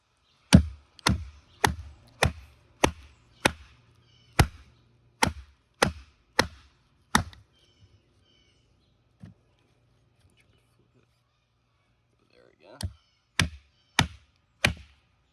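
A CS Recon 1 Tanto knife delivers loud, sharp whacks during a torture test, about a dozen evenly spaced strikes in a row, a pause with one lone hit, then four more blows close by, with no talking.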